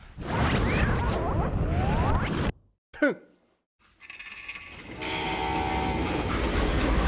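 A train in the video game Call of Juarez, loud rumbling rail noise with a squealing screech, then a brief gap and a steady rolling clatter with tonal horn-like hum.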